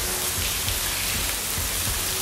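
Steady rain falls outdoors with a dense, even hiss of drops hitting surfaces, continuous and fairly loud, with no voices present.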